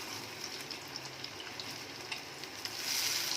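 Chicken Kabul roll frying in a pan after being flipped, with a steady soft sizzle of hot oil throughout that swells louder near the end, close and alone without talk.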